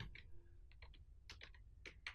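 A quiet burst of typing on a computer keyboard, a few irregular clicks and short runs of keystrokes, close by with no talk.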